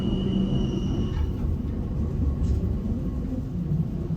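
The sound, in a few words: train rounding curves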